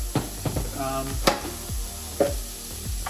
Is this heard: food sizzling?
yes